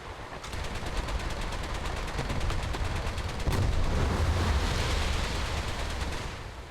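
Rapid rack of rockets launching from a game vehicle, a dense continuous barrage of booming whooshes with a louder burst midway, steady and loud throughout with no talk.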